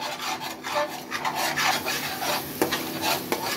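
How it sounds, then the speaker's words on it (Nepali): Spices for Kashmiri dum aloo are stirred in hot oil, a steady scraping and rasping of a utensil against the pan over a soft sizzle, with a couple of sharper knocks near the end. "यो मसला तेलमा एकदमै मजाले भुटेर पकाउनु पर्यो।"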